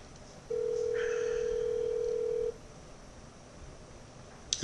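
An outgoing phone call ringing on a live radio show's group line: one steady ringback tone lasting about two seconds, then quiet line noise.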